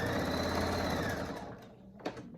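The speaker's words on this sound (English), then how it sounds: "I'm going to back stitch this part so it's easier whenever I turn it" A sewing machine back stitches the seam of a fabric wallet, a rapid steady mechanical whir for about a second and a half before it slows and stops, leaving a faint quiet tail.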